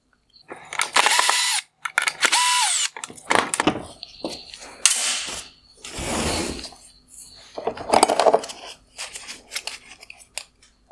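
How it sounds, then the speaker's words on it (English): A power driver backs out the two Phillips head screws holding the LED ballast in a 2019-2021 Toyota RAV4 LED headlight. Several loud, close whirring bursts are separated by short pauses and handling clatter. "Next, I will remove the 2 Phillips head screws holding in the LED ballast."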